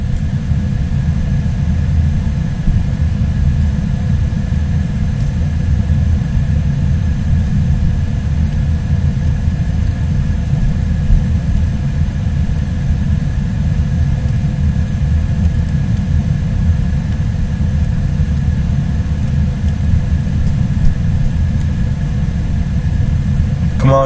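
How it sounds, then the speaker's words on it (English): A Kia car engine droning steadily as it laps a test track in GMod, a loud continuous low rumble with a constant hum, unbroken and without talk throughout. "I'm continuing my lap around our test track here in this Kia"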